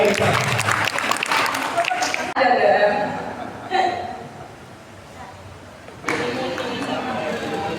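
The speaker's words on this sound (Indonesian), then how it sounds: "Beri tepuk tangan." Audience applause fills a community waste-bank league award ceremony in Sukomanunggal, Surabaya, loud and close at the start, then fading into lighter clapping and talk before another burst near the end, with voices over it.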